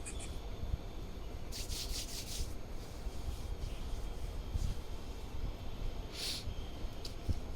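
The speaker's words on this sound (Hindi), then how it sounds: "दोनों हाथों को रब करते हुए पूरी ऊर्जा ग्रहण कर लेंगे।" Two hands rub briskly together, a close, continuous dry friction sound with a few sharper swishes, no voices present.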